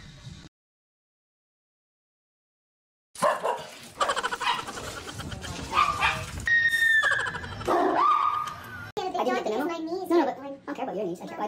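A dog barks and whimpers up close in short yips and high whines after a brief silence, mixed with people talking over it.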